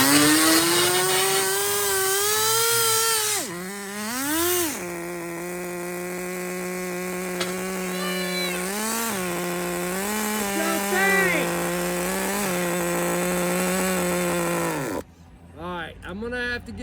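Vintage HPI Evo 2 RC car's nitro engine with a rare single-needle carburetor screams loud and close, a buzzing whine that dips and surges with throttle blips before cutting off near the end, followed by brief sputters.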